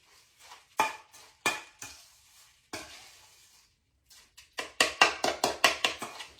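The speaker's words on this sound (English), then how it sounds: "I'm going to mix that together now." Butter, Ritz crackers and cheese get stirred together in a dish for a cabbage casserole, with irregular scraping and clinking strokes of a utensil, sparse at first and then a quick run of close, crisp stirs.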